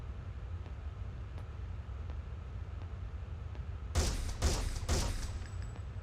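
Gunfire in the video game Alien Resurrection, played with a PlayStation mouse: three quick loud bursts close together near the end, after several seconds of steady low hum and faint background noise.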